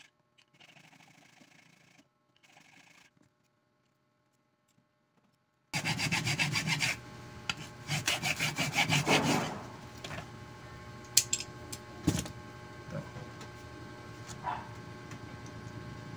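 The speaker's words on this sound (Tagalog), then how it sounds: "Tanggalin yung mga sulok nitong nut. Yan, gamit ang ating kikil." A metal file rasps back and forth against the corners of a nut from a blender's rubber drive gear, a loud close scraping rhythm that starts abruptly after a quiet stretch and continues with a few sharp knocks.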